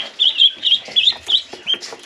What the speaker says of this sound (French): J'ai les petits canards qui chantent.